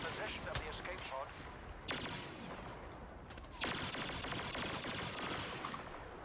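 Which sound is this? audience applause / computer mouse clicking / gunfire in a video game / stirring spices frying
gunfire in a video game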